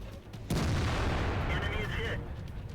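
Tank cannon fire in World of Tanks: one heavy, loud boom erupts and holds as a long rumbling roar with a crackling tail, following a quieter stretch at the start.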